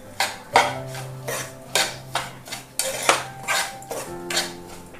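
Metal spoon scraping and clanking against a pan while upma is stirred and roasted, sharp clattering strokes repeating every half second or so, close and fairly loud with a low steady hum underneath.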